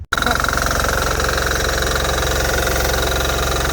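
A Bolens HT-23 garden tiller engine starts with a brief clunk, then idles loud and close in a steady, rapid chugging rhythm with rattling vibration.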